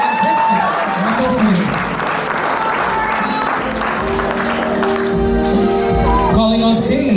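Applause for a contestant at a Samoan Tausala and Manaia pageant, a steady loud crowd clapping with music and voices running underneath throughout.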